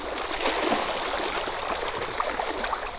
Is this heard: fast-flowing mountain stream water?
yes